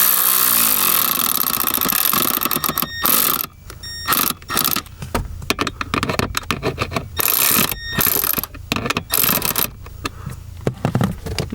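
A ratchet cranks down the mounting of a blower motor resistor in a Hummer, giving a long run of loud, close clicking and rasping strokes in irregular bursts with short pauses between them, and no talking.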